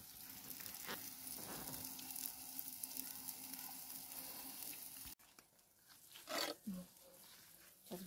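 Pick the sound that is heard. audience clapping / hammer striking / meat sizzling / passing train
meat sizzling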